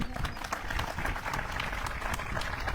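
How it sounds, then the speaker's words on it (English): Audience applause at a recreation center groundbreaking ceremony, dense steady clapping from a crowd, fairly close and sustained throughout without pause. "That's worth a round of applause."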